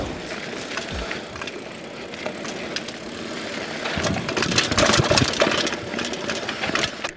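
A Trek Marlin 6 mountain bike rolls over dirt trails with a continuous tire rumble, rattling chain and frame clatter, louder and bumpier in the middle stretch.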